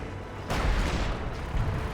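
An artillery barrage in Company of Heroes 2 starts with a sudden heavy blast and leaves a rumbling, rolling roar of distant explosions for the rest of the short stretch.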